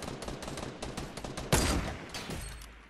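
Sniper rifle fire in Fortnite: a sharp, loud shot lands midway through a busy stretch of game sounds, with rapid clicks and impacts before it and a fading tail after.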